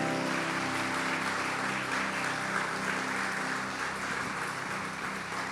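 Dense, sustained applause from a church audience fills the space, steady and loud throughout, with a slight easing toward the end.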